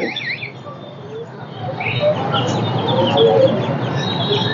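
Native deshi chickens cluck and squawk in a busy open-air animal market, loud and close, with continuous crowd murmur and other birds chirping behind them.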